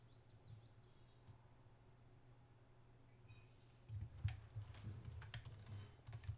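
Soft keystrokes on a computer keyboard while a server password is entered, faint and sparse at first, then a quicker run of clacks in the closing seconds over a low steady hum.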